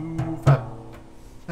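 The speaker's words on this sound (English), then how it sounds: "This is the sound of a new FEP." New FEP film on a resin 3D printer vat is tapped four times, each tap giving a short, hollow, drum-like tone that rings briefly, close and clear in a quiet room.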